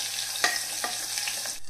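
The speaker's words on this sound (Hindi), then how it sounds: "अब हम इसमें डालेंगे जीरा और हींग, और अब हम डालेंगे कुटा हुआ लहसुन और अदरक" Cumin, asafoetida, crushed garlic and ginger sizzle in hot oil in a clay cooking pot, a steady fry hiss with a few sharp clicks and spoon stirring scrapes, close by, with no voice.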